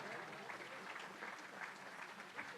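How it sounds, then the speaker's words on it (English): Crowd applause at a gala fundraising dinner in Toronto, a steady, fairly faint and distant patter of many hands clapping that holds evenly without pause. "Round of applause, well done."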